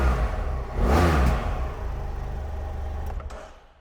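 A 2017 BMW F 800 GS Adventure motorcycle engine revs up once with a loud rising roar, then settles back to a steady idle that fades away at the end.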